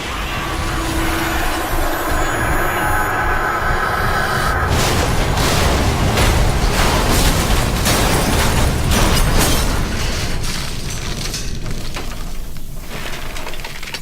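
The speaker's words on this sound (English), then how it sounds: "which causes him to crash, flip the ambulance over," An ambulance crash and explosions from the Metal Gear Solid V video game, a loud rushing roar that gives way to repeated heavy booms and bursts with crashing debris, dense and continuous throughout.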